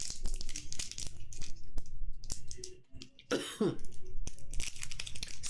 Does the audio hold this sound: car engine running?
no